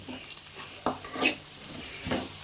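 Pasta and vegetables sauté in a pan, a constant sizzle broken by several sharp scraping stirs of a utensil against the metal, close up with no voices.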